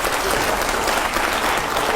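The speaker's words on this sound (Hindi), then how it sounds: "पहले तालियां तो हो जोरदार।" Loud, dense audience applause fills the whole stretch at a steady level, many hands clapping together in a TV studio during a rapid-fire question segment.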